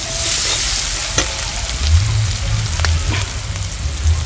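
Chopped onion sizzles steadily in a pan for a tomato and egg curry, with a few sharp scrapes of stirring breaking through the continuous frying hiss, close and fairly loud without speech.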